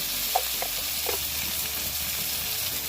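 Spices, turmeric with chopped tomato and green chili, sizzle in hot oil for a chicken skin and calabash curry, a steady close frying hiss broken by soft scraping stirs, with no talking.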